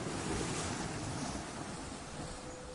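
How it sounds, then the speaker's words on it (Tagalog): Big ocean waves surging and breaking in a steady, dense roar with wind, fairly loud and continuous with no voices. "Subalit malalaking alon ang tumambad sa kanila."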